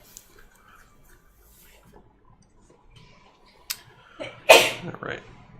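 A single sharp sneeze bursts out near the end of an otherwise quiet stretch, preceded by a brief click, close and fairly loud against faint background hum.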